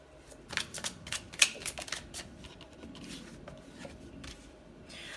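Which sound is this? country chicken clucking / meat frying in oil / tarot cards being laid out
tarot cards being laid out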